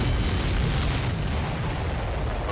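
Explosions in the combat flight game Ace Combat 7 boom in heavy, overlapping bursts, a loud continuous rumble of blasts with dense low-end thunder and no speech over it.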